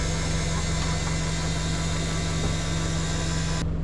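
A car engine idles just after starting with a steady, close, low rumble and even hum that holds unchanged before cutting off abruptly at the end.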